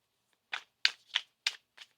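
A tarot deck is riffled and shuffled in a quiet room: five crisp, close card bursts spaced about a third of a second apart, with no talking.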